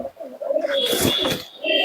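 Short-footed pigeons give a brief, close coo with a warbling tone, alone and fairly loud, ending with a thin higher chirp.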